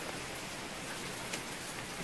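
Water drips and patters steadily inside an abandoned tuberculosis hospital in Lima, a faint, even rain-like spatter of many drops with no voices.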